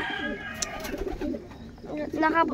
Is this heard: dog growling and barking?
no